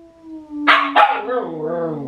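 Husky dog howling close by: a steady tone, two sharp rising yowls, then a wavering, sliding howl that trails off, with no talk over it.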